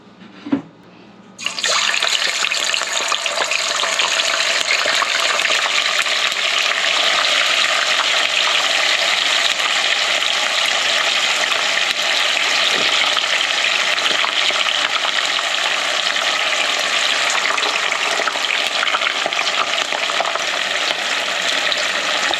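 Steady, loud crackling sizzle of oil frying shrimp and tofu, starting abruptly after a brief quiet moment and continuing evenly without pause.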